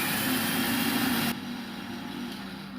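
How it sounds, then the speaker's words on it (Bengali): An electric mixer grinder whirs loudly while grinding sugar and coffee in its jar. After about a second the motor whine drops off abruptly, leaving a quieter hum. "এবার এই চিনি আর কফিটাকে এই মিক্সি জারের মধ্যে দিয়ে দিতে হবে তারপর ঢাকনা দিয়ে ভালো করে গুঁড়ো করে নিতে হবে"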